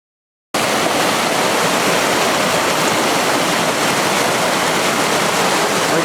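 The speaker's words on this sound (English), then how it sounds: "about a 10-foot waterfall right there" A 10-foot waterfall on the Jacks River roars in a dense, continuous rush that begins abruptly after a brief silence and holds steady throughout.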